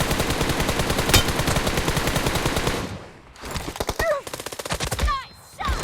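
Rapid automatic gunfire from the video game PUBG Mobile crackles loud and close in a dense stream, then breaks off into scattered shorter bursts and single shots with brief gaps.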